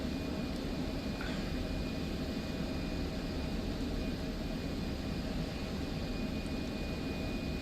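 F-16C jet engine with the throttle reduced in the DCS flight simulator, a steady, even roar with a thin high whine running throughout, no talk.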